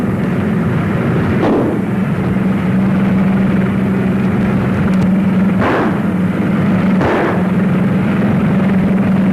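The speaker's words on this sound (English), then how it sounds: "They're shooting." Gunfire aimed at a car in a 1940 crime comedy film crackles as three sharp, well-spaced shots over a loud, constant engine drone from the moving vehicle.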